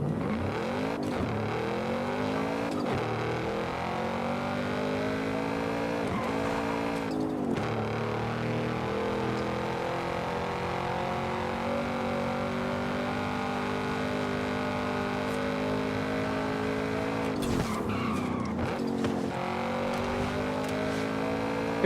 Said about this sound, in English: What kind of car is that? Or SUV? Sounds like a Porsche